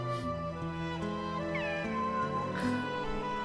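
A cat meows in the video game Kingdom Hearts II, a short plaintive call heard over steady, sustained background music in the game's scene.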